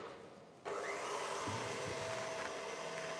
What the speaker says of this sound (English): So we're over here with our mixer. And we're going to start foaming this up